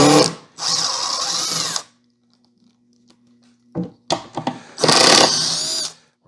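Two close bursts from a power driver backing Robertson screws out of a table saw cabinet drawer, each a loud whirring spin of about a second, with a faint hum and a few clicks between them.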